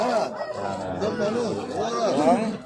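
Roosters crow and cluck in a busy, noisy crowd at a market, with people chattering close by throughout.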